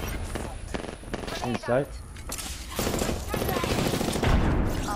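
Rapid video-game gunfire crackles in bursts, loud and near, mixed with busy in-game effects while a player speaks briefly over the shooting.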